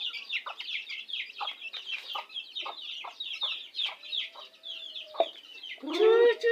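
Chickens cluck steadily in a rhythmic series of short calls, with a brief louder squawk near the end, heard at feeding time on a provincial farm in the afternoon.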